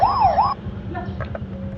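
A silver toy model police car with blue markings lets out a brief electronic siren yelp that stops after half a second, leaving faint plastic clicks and handling sounds.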